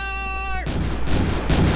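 Ship cannons firing in the Forgotten Seas video game, a sudden booming volley after a sustained tone, followed by rumbling, crackling blasts that stay loud to the end.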